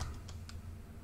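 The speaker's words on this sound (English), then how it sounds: "And then I'm going to type" A few quick keystrokes on a computer keyboard, soft light clicks spaced over about a second against a low steady hum, fairly quiet and close.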